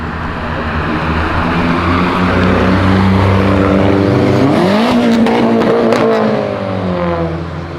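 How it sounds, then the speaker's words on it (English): A Nissan 370Z Nismo roars past at a street car show, its engine note rising loud and sweeping in pitch as it passes close by, with crowd and street noise behind it. "It's a Nismo 370 just coming in the outside lane there."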